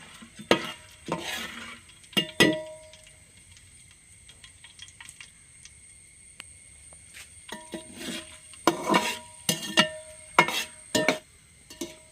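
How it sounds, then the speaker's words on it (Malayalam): Roasted gram fries in oil with a soft, continuous sizzle, interrupted by bursts of loud stirring and scraping that grow busier toward the end. "അപ്പോഴത് ഞാൻ ഇതിൽ എണ്ണയിലോട്ട് ഇട്ട് കൊടുക്കുകയാണ്."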